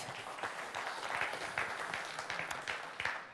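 Audience clapping before a conference talk on football medical emergencies, fairly soft and distant, steady applause with a few sharper individual claps over several seconds.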